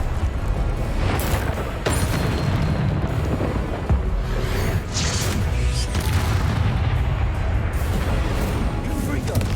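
Confringo blasting spells explode in the Hogwarts Legacy video game, a dense, loud barrage of booming, rumbling blasts that runs continuously, with sharp impacts layered over a heavy low roar.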